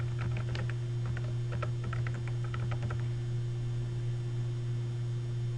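Fingers tap out a login and password on a computer keyboard in quick bursts of clicks over a steady electrical hum, then the keys fall silent and only the hum remains.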